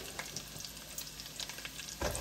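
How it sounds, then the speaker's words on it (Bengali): Onion frying in hot oil with cardamom and cinnamon, a steady soft sizzle with occasional stirring scrapes and a louder clatter near the end, no talking. "পেঁয়াজটা আমি বেশি ভাজবো না"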